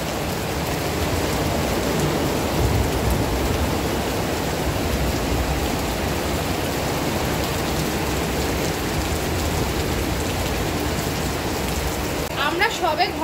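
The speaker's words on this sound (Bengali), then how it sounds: "তো তোমাদেরকে দেখাচ্ছি বাইরে কেমন বৃষ্টি হচ্ছে" Heavy rain pours down steadily outdoors, a dense continuous hiss with drumming on surfaces throughout, near and loud, with a few brief louder patters toward the end.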